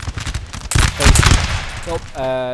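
Massed musket volleys crackle in Napoleon: Total War during a Russian battle of 1812, with loud, dense bursts of overlapping shots and a voice talking over the battle noise.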